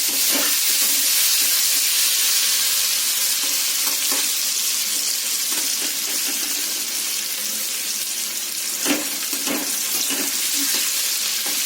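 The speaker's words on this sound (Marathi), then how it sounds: "पाव चमचा हळद, भिजवून घेतलेली हरभऱ्याची डाळ टाकून घ्यायची" Turmeric and soaked chana dal fry in hot oil with a steady, loud hiss and crackling sizzle that holds throughout, with occasional louder pops.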